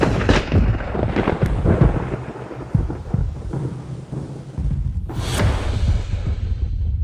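Thunder crashes in a Chinese urban revenge drama, rumbling loudly with a deep low roll and a sharp burst near the end, layered under dramatic music with no speech.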